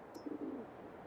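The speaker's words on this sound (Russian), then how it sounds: "Голуби слышно было." Pigeons coo softly in a short, low burst in the Farming Simulator 22 video game, heard faintly at a distance against quiet ambience, with a brief high chirp just before.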